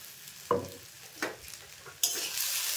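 Food stir-frying in a pan just after soy sauce goes in: sharp scraping stirs at regular intervals, then a loud burst of sizzling that holds steady to the end.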